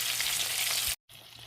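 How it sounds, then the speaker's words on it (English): Steady, loud sizzling of pork chops frying in hot oil, continuous for about a second before cutting out briefly, then resuming. "we've got the next batch in there frying"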